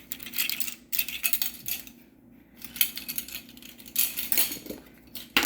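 Metal measuring spoons clink and rattle against a bowl while adding baking powder to blueberry muffin batter, a series of close, bright jingling taps and scrapes in short bursts with brief pauses.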